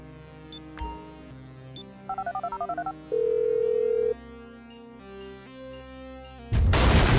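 Phone dialing in Grand Theft Auto V: short electronic beeps and a quick run of rapid keypad tones, then a sustained dial tone before a burst of loud noise at the end, with no talking.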